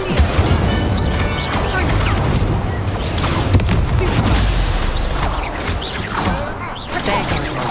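Incendio fire spell cast during a Hogwarts Legacy duel, a dense barrage of booming bursts, crashes and whooshes over steady game noise, loud and continuous throughout.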